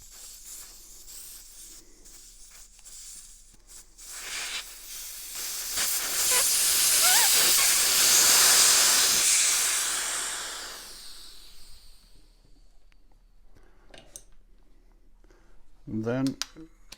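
Air hisses out of a dirt bike tyre as the valve core is removed, a strong steady rush that swells for several seconds and then fades, with someone talking before and after.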